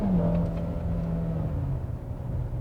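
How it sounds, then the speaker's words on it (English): A 2016 Acura TLX with a four-cylinder engine accelerates at full throttle, its loud steady engine drone rising slowly in pitch under heavy low rumble, heard from inside without talk. "let's see how this bad boy does when you just floor it and chuck it in"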